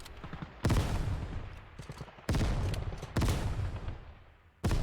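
Pistol shots at a shooting range in the video game Ground Branch: four sharp, loud, close reports spaced irregularly, each followed by a decaying echo tail.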